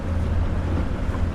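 Highfield 390 Sport inflatable boat with a 60 horsepower outboard running on the water: a steady low engine drone with wind and water rush, continuous and close.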